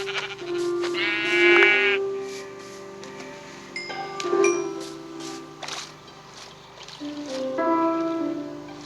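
Sheep bleat clearly several times in separate, drawn-out calls with pauses between, alongside faint clicks and no talking.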